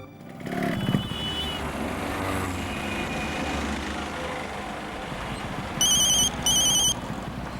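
An electronic phone ringtone chirps in two short bursts over a steady background rumble of traffic.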